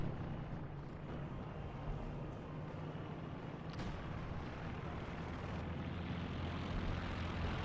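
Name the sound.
aircraft flying over, from video game Company of Heroes 2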